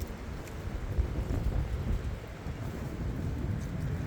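Wind gusts outdoors at beehives, a low rumbling roar buffeting the microphone steadily, with no voices.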